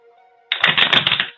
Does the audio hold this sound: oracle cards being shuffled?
yes